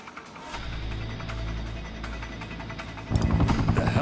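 Helicopter in the shooter Sniper: Ghost Warrior 2, a steady low rotor drone and hum held throughout, growing louder and closer near the end, with no talk over it.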